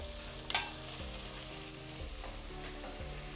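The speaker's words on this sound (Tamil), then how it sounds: "நல்லா வதங்கி வரணும் வெங்காயம், வதங்கட்டும்" Onions fry in a pan with a continuous soft sizzle, broken by an early scrape of a stirring spoon, all quiet and close.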